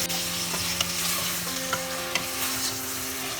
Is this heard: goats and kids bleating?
no